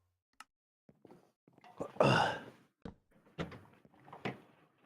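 A desk chair creaking as a seated person shifts their weight: scattered soft clicks and rustles, then one louder, drawn-out strained creak, followed by a few shorter creaks and knocks in an otherwise quiet room.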